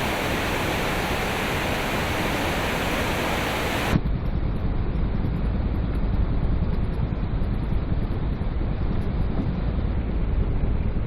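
Khone Phapheng waterfall on the Mekong River roars as a dense, steady wall of rushing water, loud and unbroken, its bright hiss dropping away partway through while the deep rumble continues.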